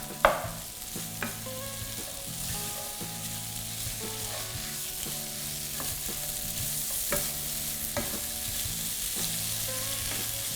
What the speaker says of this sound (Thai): เราก็จะใส่หมูกรอบนะคะลงไปเลย ทีนี้ก็ผัดให้เข้ากันเลยค่ะ